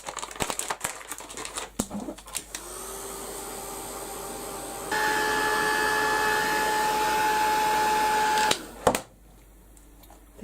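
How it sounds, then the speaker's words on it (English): Heat gun blasting hot air over a Christmas craft project, a steady whining blower roar that starts after some handling clicks, rises in pitch and loudness midway, then cuts off abruptly. "I'm going to give it a quick blast with the heat gun."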